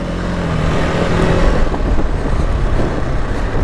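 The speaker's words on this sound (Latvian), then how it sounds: "Ļoti patīkami braukt par tādu vieglu mocīti." A 2026 KTM 390 R Adventure light motorcycle ridden off-road over sand, its engine droning steadily and loudly with broadband wind and tyre rumble throughout, no talk.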